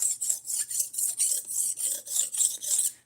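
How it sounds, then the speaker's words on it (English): A knife drawn over a sharpener in about ten even rhythmic strokes, each a bright close rasping scrape, alone and fairly quiet. "we're sharpening this knife"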